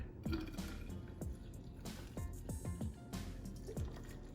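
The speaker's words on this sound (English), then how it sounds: "Get your water and just fill it on up to the top." Water poured from a container to fill a jug for homemade organic strawberry lemonade, a steady close liquid rush with gurgling drips and splashes over a few seconds, no talking.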